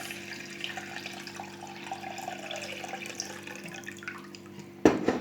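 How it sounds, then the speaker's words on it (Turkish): Lukewarm water trickles from a tap and is poured onto tomato paste on a plate, a faint, steady running-water sound with a low hum beneath, ending in a sudden louder splash. "İçine biraz ılık su koyuyoruz."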